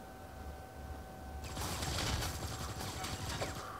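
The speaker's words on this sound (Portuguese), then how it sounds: "Estão atirando ali." Gunfire in the shooter game N.O.V.A. 3 Freedom Edition, a dense rattling burst of rapid shots that starts abruptly partway through and carries on over a low hum of background noise.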